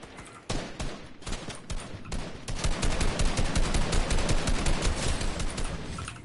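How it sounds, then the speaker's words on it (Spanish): Video game gunfire crackles in dense bursts of rapid shots, building into a near-continuous fusillade of machine-gun fire. "Disparos"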